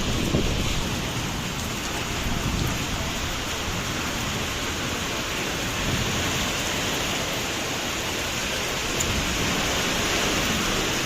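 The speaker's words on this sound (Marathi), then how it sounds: "पाऊस तर आहेच, पण त्याचबरोबर वारा पण एकदम भरपूर आहे" Heavy rain pours steadily with strong wind during a storm, a dense, loud, continuous wash of noise without any voices.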